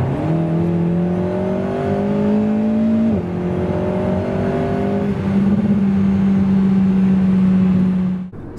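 A 1.8-litre 300 hp Alpine A110 R pulls hard from 90 to 140 km/h, the engine rising in pitch with upshifts near three and five seconds, then a sustained high drone that cuts off abruptly, loud and close with no speech.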